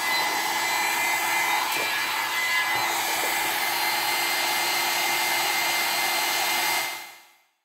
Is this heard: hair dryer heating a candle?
yes